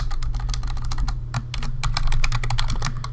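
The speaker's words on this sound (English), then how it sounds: "man, my typing is terrible today" Fast, uneven clatter of keys on a computer keyboard during coding work, close and steady with short pauses between bursts, over a low electrical hum and no speech.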